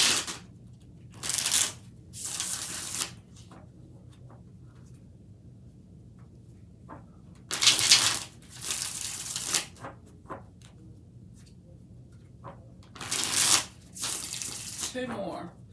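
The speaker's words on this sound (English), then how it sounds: "6 shuffles." Tarot cards are shuffled in three separate bursts of quick riffling, each lasting a second or two, with quiet pauses between them.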